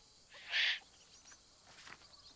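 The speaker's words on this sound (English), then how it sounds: "Yep, the little owl." A little owl in the wildlife game Alba: A Wildlife Adventure gives a single clear, short, high-pitched call that stands out against quiet ambient background.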